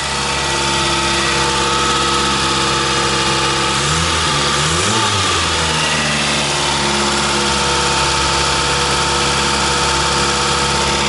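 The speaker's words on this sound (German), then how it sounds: "ich gebe mal ein bisschen Gas oder was?" A Derby car engine being diagnosed after a timing belt job drones steadily at a high idle, then swells briefly as the throttle is blipped before settling back to a loud, constant hum.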